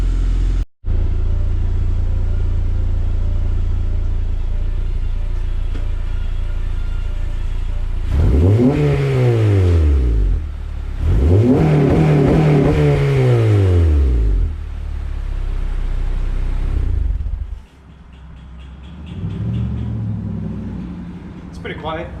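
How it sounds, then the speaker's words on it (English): A 9th generation Honda Civic Si fitted with an Invidia Q300 exhaust idles steadily, then gets two loud revs that climb and fall back, followed by a quieter idle with a lower rumble near the end. "I'm gonna go ahead and let it run through a heat cycle, and then I'll give you a couple of revs."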